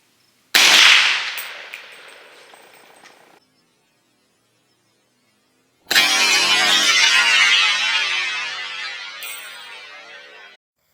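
An AK-47 short-barreled rifle fires a high-velocity FMJ handload into a level 4 body armor plate: one loud, sharp crack with a ringing decay, then after a pause a long, dense burst of noise that slowly fades.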